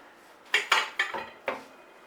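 A small bowl being taken out among kitchen dishes, five quick ceramic clinks and clatters in an uneven burst, close by and fairly loud with no talk.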